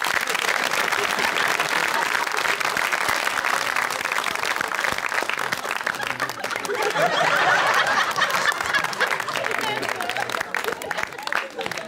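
Sustained applause from a comedy show audience greeting performers on stage, dense and loud throughout, with a presenter's voice over the clapping and scattered chuckles.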